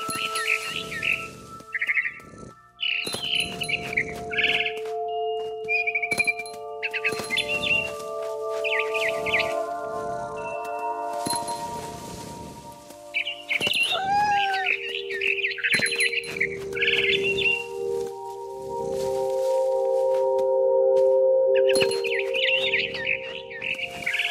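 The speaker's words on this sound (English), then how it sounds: "Then I heard chirping outside my window. It was a barn swallow going back to her nest." Bright barn swallow chirps and tweets repeat in quick clusters throughout, alongside sustained electronic tones and clicks, with no talking, in the video game What Remains of Edith Finch.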